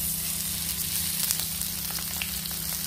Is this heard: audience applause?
no